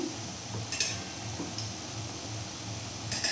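Small pieces of sweet pastry frying in oil over a very low gas flame, with steady soft sizzling and occasional faint clinks of a utensil stirring and turning them in the pan, no talking.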